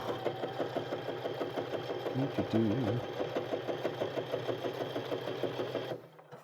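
A Presto II sewing machine with a jeans needle stitches through several thick layers of denim while hemming pants, a steady rapid mechanical chatter running close and loud before stopping abruptly near the end, with a brief voice in the middle.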